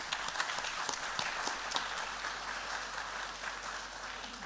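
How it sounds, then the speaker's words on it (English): An audience at an annual parish meeting applauds, steady dense clapping from a roomful of people that holds evenly throughout. "Let's give them a round of applause."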